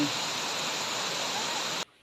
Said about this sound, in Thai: น้ำตกคูริน